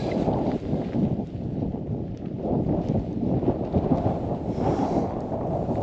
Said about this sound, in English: it's taking a fair old battering from the wind